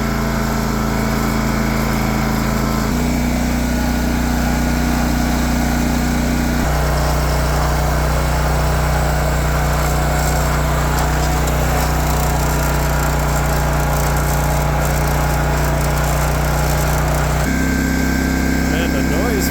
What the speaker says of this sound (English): the noise from this engine is just obnoxious. It's not even the exhaust noise, it's just the engine itself